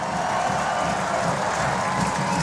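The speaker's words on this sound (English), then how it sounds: "The Cardiff Devils take in the applause" An ice hockey arena crowd applauds the Cardiff Devils, with loud, sustained clapping and cheering filling the rink without a break and no talk over it.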